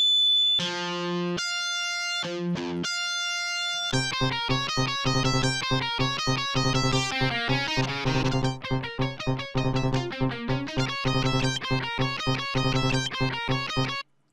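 Distorted electric guitar playing a fast solo line of rapid picked notes after a few sustained opening tones, loud and upfront with no voices.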